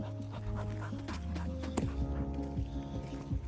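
A dog pants rapidly and rhythmically up close, quick breathy huffs continuing without a break.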